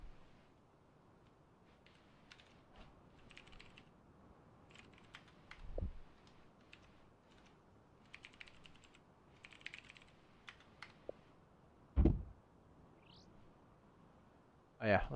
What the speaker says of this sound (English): Man, this keyboard is touchy.